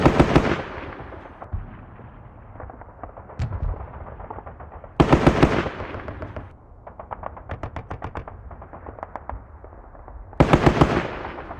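Gunfire in the tactical war game WDS Squad Battles Eagles Strike comes in loud, close bursts of rapid shots, with sharper volleys breaking out at intervals between lighter popping fire.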